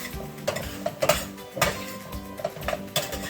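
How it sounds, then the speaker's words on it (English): A utensil scrapes and clanks against a pot while Swiss chard greens and garlic are stirred, a few close metallic knocks and rustles with no talk. "So we're going to give them another quick stir with the garlic."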